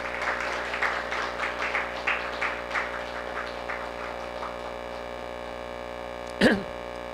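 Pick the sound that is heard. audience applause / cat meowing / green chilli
audience applause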